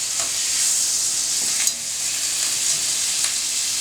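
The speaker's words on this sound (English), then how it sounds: "when you saute scallops like this" Scallops sautéing in a pan, a continuous bright sizzle heard close up, with a couple of faint scrapes and crackles along the way.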